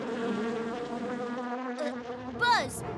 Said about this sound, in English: Buzz, buzz, the bees buzz.